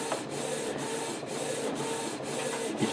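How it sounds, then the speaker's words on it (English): A Canon Pixma MG2520 inkjet printer printing, its print head shuttling back and forth in a regular rhythm with a whirring motor tone and a soft thump at each end of a pass, close and steady with no talking. "It's printing out in Chinese."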